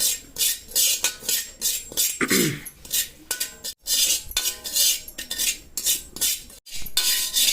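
Poppy seeds dry-roast in a pan with close, loud, rhythmic scraping and stirring strokes of a metal utensil, repeated steadily with brief pauses, plus one short whining sound partway through; no one speaks.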